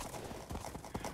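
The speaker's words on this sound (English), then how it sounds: "My horse going all crazy." Horse hooves clip-clop in a rapid, uneven gallop in Minecraft, close and moderately loud.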